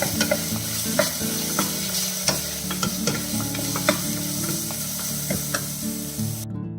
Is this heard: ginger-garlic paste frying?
yes